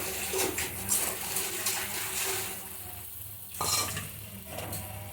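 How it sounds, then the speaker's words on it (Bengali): Small fish slipped into a boiling sour fish curry, a continuous bubbling simmer with soft splashes and stirring scrapes, close and steady with a brief louder burst near the end. "আর বলক এসে গেছে, দিয়ে দিচ্ছি মাছগুলি।"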